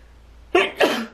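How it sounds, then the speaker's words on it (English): A single close, loud sneeze in two bursts, a quick intake and then the explosive release. "Yeah, sneeze."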